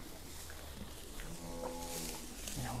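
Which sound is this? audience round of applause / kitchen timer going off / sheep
sheep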